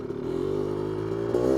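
1985 Honda 250R engine held at full throttle while running too rich and flooding, a brief steady buzzing drone with a slight rise near the end, moderately loud and close.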